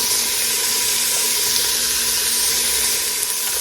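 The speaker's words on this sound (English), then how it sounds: "let's get some water for this pot" Tap water runs steadily into a cooking pot in a home kitchen, a continuous close hiss and splash that holds level throughout with no talking.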